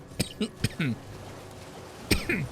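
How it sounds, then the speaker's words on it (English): Several short, close coughs and throat-clearing sounds come in quick succession, with a pause before a final cough. "I'm coughing"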